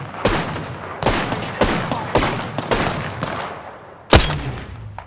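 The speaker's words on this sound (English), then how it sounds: "There's a hostile over there. Firing." Gunfire in the Apex Legends video game: a string of about seven sharp, close shots at a steady pace, with a louder final blast after a brief pause and little talk around it.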